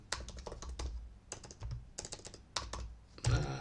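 Fast, uneven typing on a computer keyboard, with clustered key clicks in short bursts and brief pauses, close and fairly quiet, ending in a louder clattering flurry.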